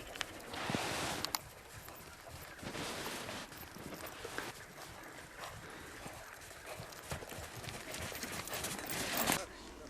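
A rahvan ambling horse is ridden over the ground, its hooves clip-clopping steadily under nearby voices giving riding instructions.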